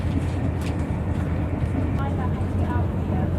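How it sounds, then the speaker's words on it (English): Loud, steady rumble of a train running between Exeter St David's and Totnes, a continuous low roar with rattling throughout, heard from inside a carriage with no talk. "Now at Exeter St David's, just catching the train back to Totnes"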